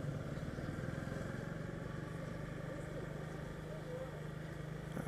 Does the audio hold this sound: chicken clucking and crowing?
no